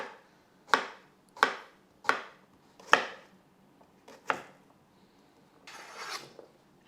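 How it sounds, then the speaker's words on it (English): A knife chops through crisp cucumber in a handful of sharp, separate strikes against a board, close and clear, followed by a softer scraping sweep. "we're done chopping the cucumber"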